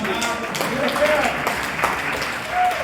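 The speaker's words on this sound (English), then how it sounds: "Please keep clapping." Audience at a comedy festival show applauding, a steady spread of clapping with voices and crowd noise mixed in, fairly loud and continuous.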